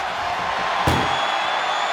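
A single sharp door slam from the WWE 2K25 video game's ambulance close-the-door match lands near the midpoint over a steady arena crowd roar.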